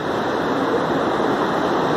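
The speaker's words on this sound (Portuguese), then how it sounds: "O volume de água continua subindo, gente." Floodwater from the swollen Panelas river at Belém de Maria rushes in a loud, continuous roar, with no voices over it.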